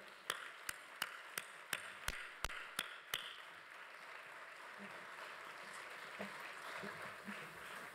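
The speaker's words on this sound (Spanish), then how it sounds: "¡Fuerte aplauso!" Audience at a closing flamenco cultural event applauding, starting with sharp separate claps in a rhythmic series and settling into faint, diffuse steady clapping; distant and quiet overall.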